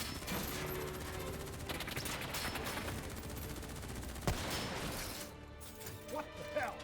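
Gunfire in the Black Ops 3 video game: dense, continuous rapid shooting and crashing impacts fill the clip, loud and chaotic, easing slightly toward the end with a few louder hits.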